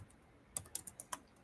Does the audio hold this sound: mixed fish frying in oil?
no